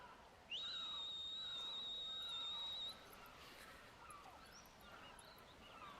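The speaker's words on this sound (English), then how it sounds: "she's whistling" A Final Fantasy X character whistles a single long, steady, clear note that holds for about two seconds, loud and close against faint background ambience, then stops.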